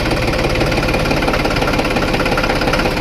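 A John Deere 5310 tractor engine runs steadily with a worn, noisy gearbox, giving a close, loud, continuous knocking rumble with even vibration throughout and no voices.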